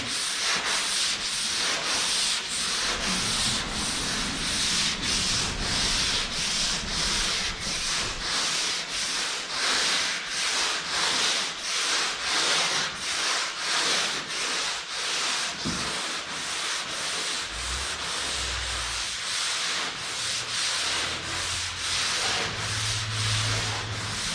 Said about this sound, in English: and then I'll go into wet sanding